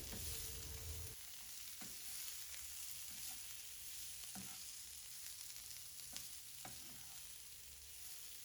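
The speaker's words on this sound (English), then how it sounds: "Then you're going to give it a stir until the onions and the potatoes are well combined" Boiled potatoes and onions sizzle steadily in a pan while a utensil stirs them, leaving a few soft scrapes and clicks over a constant frying hiss, with no talking.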